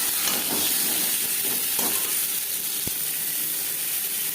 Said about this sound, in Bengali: সবজি আমি হালকা করেই ভেজে নেব।